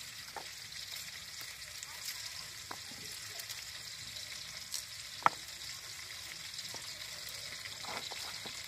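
Peppers fry in olive oil over a wood fire outdoors, a faint, even crackling sizzle with occasional sharp pops and clicks, no talk.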